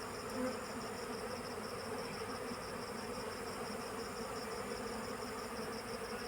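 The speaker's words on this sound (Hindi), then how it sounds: "जब भी ये मधुमक्खियों का शोर सुनते हैं तो तुरंत आ जाते हैं इनको अटैक करने के लिए।" A swarm of honey bees settling into a traditional hive box, with hornets around, makes a dense continuous buzzing drone at a steady moderate level with no talk.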